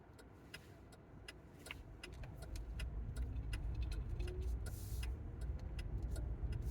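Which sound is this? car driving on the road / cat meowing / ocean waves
car driving on the road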